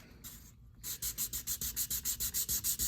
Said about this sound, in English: Now I'm just sanding this with some 600 grit sandpaper